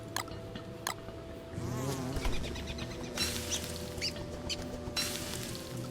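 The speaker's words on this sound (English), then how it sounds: "the sound of bees in my ears definitely messes with me sometimes" Bees from the video game Don't Starve buzz steadily up close, a continuous insect drone with a few sharper chirps and clicks layered over it, with no talking.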